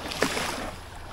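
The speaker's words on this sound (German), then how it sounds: "hier vorne kommen Wellen." Small waves slap and splash against a cheap, leaky five-euro inflatable dinghy on open water, a brief close wash of water noise with one sharper splash near the start.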